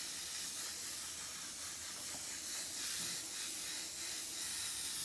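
A new airbrush gun sprays paint in a shop with a continuous soft, airy hiss, close and even, swelling slightly in places, with no talking.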